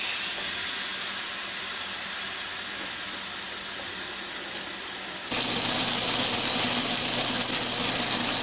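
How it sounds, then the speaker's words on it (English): Loud, steady broadband hiss of a ribeye steak searing in a smoking-hot skillet, jumping suddenly louder partway through and continuing without talk. "The skillet's been heating, it's smoking, so I'm gonna add my ribeye steak."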